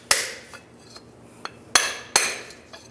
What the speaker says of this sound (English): Just give it a couple taps.